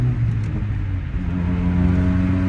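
A Fiat Tipo engine runs, heard onboard from inside the car, a loud, steady low rumble with a slight rise in revs, close and continuous without talk.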